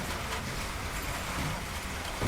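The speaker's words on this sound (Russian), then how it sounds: "Isn't this beautiful? We're getting rain." Rain falls steadily outdoors as a dense, even hiss with a soft low rumble underneath. It sounds moderately quiet and continuous, with no voices over it.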